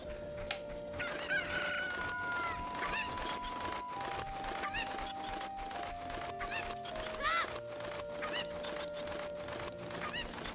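Chickens in Zelda: Ocarina of Time cluck and crow in repeated short bursts across the scene, close and fairly loud, over a sustained game music tone, with hoofbeat-like clopping mixed in.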